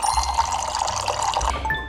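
Cold water running steadily from a tap or pouring in a continuous, close, fairly loud splashing rush that holds for about two seconds with no talking.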